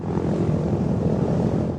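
A restored vintage propeller airplane runs its engines nearby, a loud, steady droning roar with a rough, throbbing texture that holds constant before easing slightly at the end.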